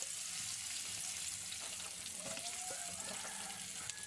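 Pork chicharon fries in hot oil with a soft, steady sizzle and light crackling throughout, faint and unbroken with no talking.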